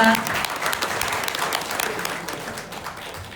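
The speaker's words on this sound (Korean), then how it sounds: "큰 박수로 부탁드리겠습니다" Steady, dense applause from an audience at a signing ceremony at a filming set in Gosan, Jeju, clapping continuously before a company head speaks.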